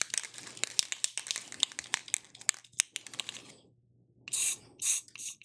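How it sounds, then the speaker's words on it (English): A spray paint can fires short hissing bursts into its cap during a table rivet press makeover, preceded by a run of crinkly clicking and handling noises, close and dry. "I'm going to liberally kind of spray right here in the middle with some paint"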